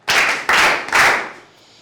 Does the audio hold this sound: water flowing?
no